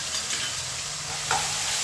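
Steady sizzling of onion paste frying in a hot pan, with a brief stirring scrape near the end; no voices.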